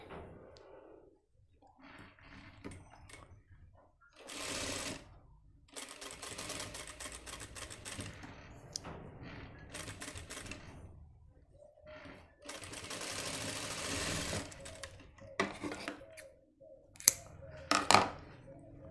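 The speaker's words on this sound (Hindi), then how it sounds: "इसको ऐसे फोल्ड करेंगे। इस तरीके से फोल्ड कर लेंगे आप इसको और इसके किनारी पर सिलाई मार देंगे।" A sewing machine stitches along the folded edge of a gents' pant back pocket, running in several short whirring bursts separated by quiet pauses, close and moderately loud.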